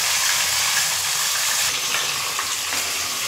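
Tilapia fish frying in hot oil, a loud, steady, close sizzle with crackling bubbles that continues without pause throughout.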